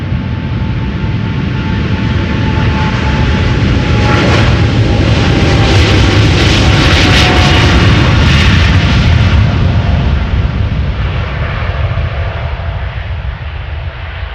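A jet airliner departs Schiphol's runway 36L in Amsterdam, its broad, loud engine roar building to a peak and slowly easing as it climbs away, steady and continuous throughout.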